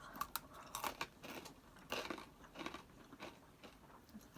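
Crunchy cauliflower pretzels are bitten and chewed up close, a string of quiet, irregular crisp crunches spread across the moment, with no voices.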